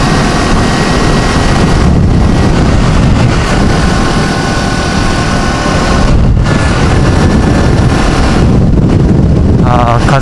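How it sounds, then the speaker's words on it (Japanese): Strong wind buffets the microphone throughout a solo motorcycle tour in Shiga, Japan, a loud continuous roar of broadband rumble with a few brief lulls and engine hum beneath. "風が強いな、だいぶ。"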